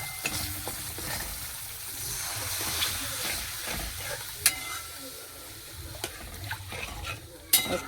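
Water poured into a pan of frying fish curry: a loud hissing sizzle and steam throughout, with stirring scrapes and a few sharp clinks of a utensil against the pan.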